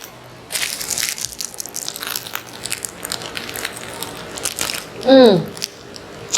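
A sharp crunchy bite into a crusty bánh mì thịt meat sandwich, loud and close, with a brief crackling crunch after a quiet stretch of faint rustling.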